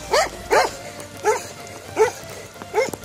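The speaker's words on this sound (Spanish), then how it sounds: "¡El perro!" A dog out on a snowy slope barks five times at a steady pace, sharp and fairly close, with brief quiet gaps between the barks.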